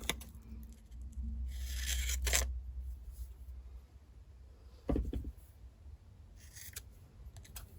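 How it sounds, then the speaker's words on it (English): Scissors snip through paper while cutting pieces for a handmade file folder journal, with a longer run of close, crisp cuts early on and a few shorter snips afterward against quiet room noise. "And then we're going to cut one more and then cut it in half."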